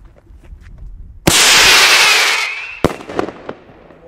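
Rattlebang firework battery on New Year's Eve bursts into a loud, dense crackling roar for about one and a half seconds, then a sharp bang and a few scattered pops trail off.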